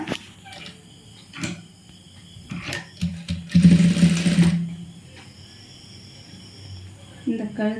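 A sewing machine stitches a blouse in a short, close whirring run of about a second and a half, set between quieter handling clicks and rustles.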